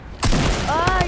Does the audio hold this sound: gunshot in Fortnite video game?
yes